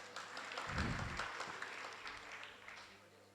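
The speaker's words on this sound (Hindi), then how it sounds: "ताली बजी बेटा।" Faint scattered clapping rises briefly from an audience at a religious discourse, a soft patter of hands that swells for a moment and then thins out into quiet room tone.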